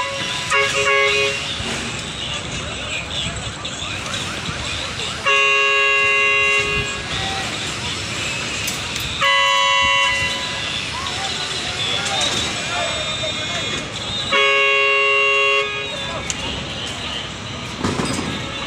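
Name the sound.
vehicle horn honking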